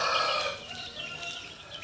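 Village chickens cluck and crow nearby in the morning, a busy stream of overlapping bird calls at moderate loudness.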